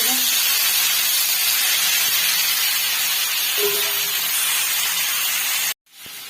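Prawns sizzle in hot oil in a wok, a loud, dense, continuous frying hiss that cuts out abruptly near the end and then resumes more faintly.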